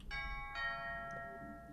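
A two-tone doorbell chime rings out clearly indoors, two bright ding-dong strikes with long ringing decay, alone with no talk.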